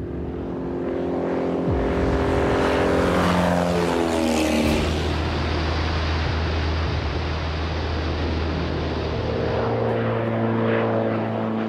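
A propeller airplane in flight, its loud droning engine rising in pitch and sweeping past close by, then holding a steady roar with a hum underneath.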